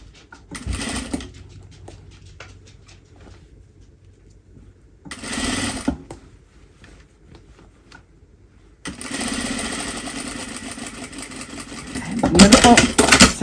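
Sewing machine running in short bursts of top stitching, with quiet pauses between runs and a longer, louder stretch near the end, the motor's steady buzz close and clear.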